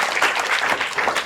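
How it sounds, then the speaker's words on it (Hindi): A short burst of dense studio audience applause at a Hindi quiz show, many hands clapping steadily without a break. "जोरदार तालियां बजाइएगा"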